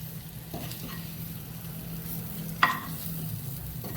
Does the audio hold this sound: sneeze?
no